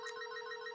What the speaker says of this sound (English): So now Alice declined, Bob is ringing